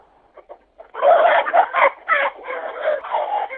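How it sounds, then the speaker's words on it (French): Rooster and hens clucking close by inside a henhouse, a few soft clucks at first, then a dense, continuous burst of loud clucking and squawking that carries on to the end. "je suis dans mon poulailler au milieu des poules"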